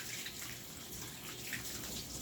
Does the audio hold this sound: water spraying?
yes